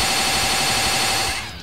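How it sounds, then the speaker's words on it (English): Rapid, continuous burst of missile-barrage fire from the Dragon Ball Xenoverse 2 video game, a dense rattling volley that stays loud throughout and cuts off abruptly near the end. "Die, die, missile barrage!"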